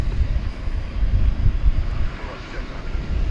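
Distant airplane departing DFW Airport at night, a low, continuous rumbling roar mixed with gusty wind buffeting the microphone, fairly loud but indistinct.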